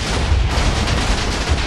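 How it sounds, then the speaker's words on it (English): TNT blowing up in Minecraft, set off through redstone wiring on a raided base: a dense, loud, sustained rumble of overlapping blasts with heavy low-end roar and crackle throughout. "will all the redstone light the TNT?"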